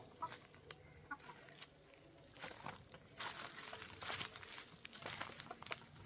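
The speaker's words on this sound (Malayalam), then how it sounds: "ഇത്രയും കോഴികളാണ് ഇതിലുള്ളത് കേട്ടോ" Chickens cluck and murmur softly in the distance, with scattered rustling and crinkling noises mixed in over a quiet background.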